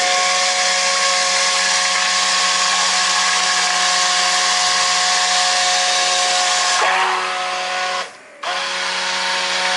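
An electric mixer blending a homemade soap mixture made with olive oil gives a loud, steady, close whir that wavers slightly and briefly drops out for a moment before resuming.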